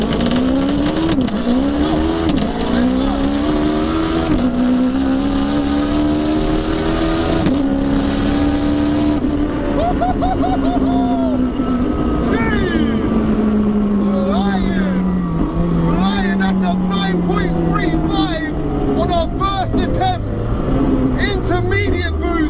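Drag race car accelerating hard down the quarter mile at over 160 mph, a loud engine note rising and falling through gear changes, with tire noise and talk over it.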